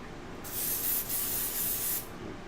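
A steady hissing airbrush spray of makeup pigment comes in two sustained bursts with a short break between, close and fairly soft, with no voices.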